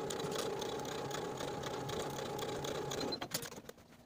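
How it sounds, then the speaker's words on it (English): A sewing machine stitches the side seams of a dress bodice, a steady rapid mechanical whir running for about three seconds before it slows and stops with a few clicks. "Sew both side seams with a 5/8 inch seam allowance, finish your seams, and press them toward the back of the bodice"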